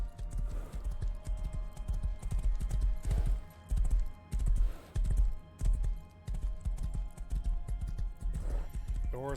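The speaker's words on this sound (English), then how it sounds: "The horse was a good find." Horse hooves clip-clop in the Rust survival game, a steady rhythmic trot close by that pauses briefly several times before resuming, with no talk over it.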